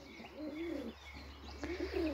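A pigeon coos softly in low, rolling bursts, with a couple of short calls in a quiet outdoor setting.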